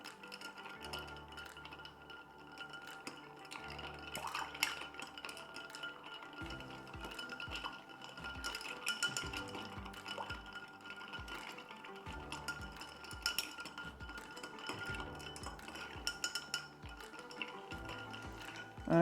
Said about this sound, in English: give this a stir just to nicely chill and dilute this last drink